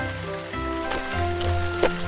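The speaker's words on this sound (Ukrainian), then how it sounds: "З неба падають крапельки води." Light rain patters softly and steadily in a cartoon scene, with gentle droplet taps beneath a calm musical background.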